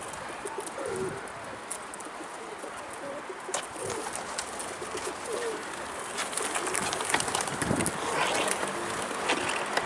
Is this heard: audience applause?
no